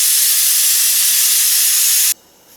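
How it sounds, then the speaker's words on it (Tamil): A pressure cooker with its weight on, over a medium flame while cooking ash gourd kootu, lets out a loud, steady steam whistle that hisses for about two seconds and then cuts off abruptly. "வெயிட் போட்டு மீடியம் ஃப்ளேம்லேயே வச்சு ஒரு 3லேருந்து 4 விசில் விட்டு எடுத்துக்கலாங்க"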